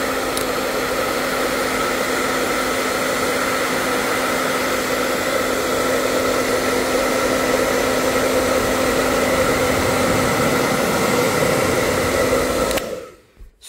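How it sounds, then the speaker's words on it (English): A hairdryer on its hot setting blows at a laptop display panel, a steady loud whirring rush with a constant hum that runs unbroken for about thirteen seconds, then cuts off abruptly at the end. "So, what I got is a hairdryer, and check it out."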